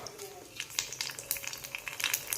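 Puris for panipuri fry in hot oil, giving a close, crackling sizzle with irregular bubbling pops throughout.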